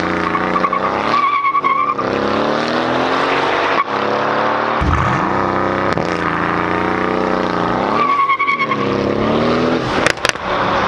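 A Mercedes launches on an open road, the engine revving hard through rising pitch sweeps with gear changes and brief tire chirps, loud and close throughout.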